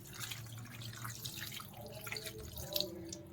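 Water runs and splashes into a pan of white brinjal and dried fish curry for gravy at a steady, moderate level, with a soft clink near the end.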